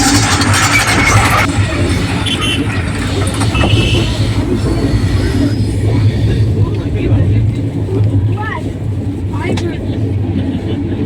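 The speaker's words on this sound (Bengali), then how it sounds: "আসছে 17611 মুম্বাই সিএসএমটি রাজ্যরানী এক্সপ্রেস।" Mumbai CSMT Rajya Rani Express train number 17611 pulling into a station, a loud, close rumble of wheels and carriages with rhythmic clatter and faint squeals, passing steadily throughout while voices murmur nearby.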